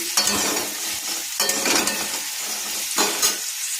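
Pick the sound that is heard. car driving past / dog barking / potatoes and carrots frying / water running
potatoes and carrots frying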